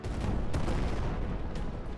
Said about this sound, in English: The thunderous explosion causes a partial collapse of the building, thus increasing the danger.